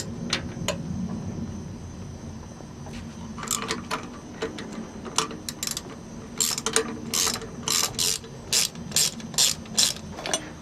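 A ratchet wrench loosens the thermostat housing bolts on a marine engine with a cracked block, first in scattered clicks, then in a steady run of loud, close, rhythmic ratcheting bursts over a low engine-room hum.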